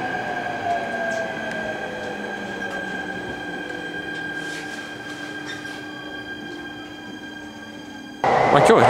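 A train rolls through a very long tunnel approaching Doai, an underground station in Gunma. A steady enclosed rumble carries faint whining tones, and the sound turns abruptly louder and brighter near the end.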